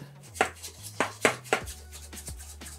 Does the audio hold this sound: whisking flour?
yes